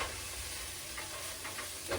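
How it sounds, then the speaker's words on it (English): Minced garlic sizzles in a pot with a soft, continuous hiss while a spoon stirs it, producing a few faint scraping strokes near the end. "Give that a stir."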